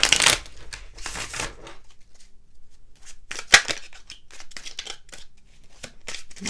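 Tarot cards are shuffled in short papery bursts and riffles, fairly close, with pauses between quick flurries.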